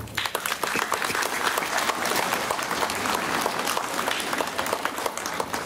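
A room full of people applauds at a school-year opening ceremony, steady dense clapping that starts with a few sharp claps and holds evenly throughout.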